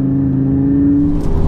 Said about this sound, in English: what it's like to drive the Gallardo LB560